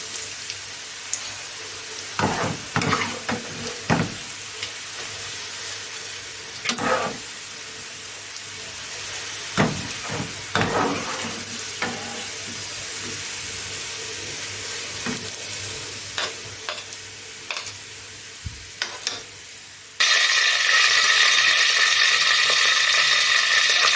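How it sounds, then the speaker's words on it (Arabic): Onions fry in oil in a pot for Egyptian koshari, giving off a close, continuous sizzle broken by clinks and scrapes of stirring, before a louder, denser hiss takes over near the end. "البصل يتحمر معايا يا بنات."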